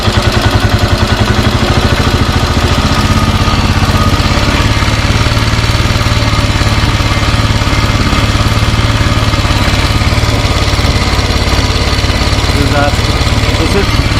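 Royal Enfield Himalayan motorcycle with a carburetor being tuned idles steadily, a close, even single-cylinder thump with a constant mechanical rattle and no change in pace throughout.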